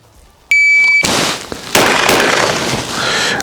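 Pistol shots at shooting practice: a shot timer beep is followed by two sharp, loud gunshots in quick succession, the second trailing into a ringing outdoor decay.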